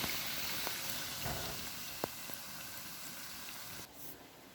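Steady sizzling and crackling of koesister dough frying in hot oil, with a few sharp pops, continuous and close, no voices.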